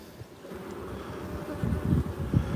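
Honey bees being hand-fed by a beekeeper hum at an open hive, a close, steady buzzing drone with soft wind noise that swells louder toward the end.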